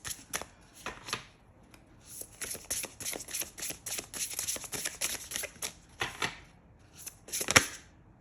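Tarot cards are shuffled and drawn from a deck in quick riffling bursts and soft slaps, near and fairly quiet, pausing briefly before another flurry of card handling starts up.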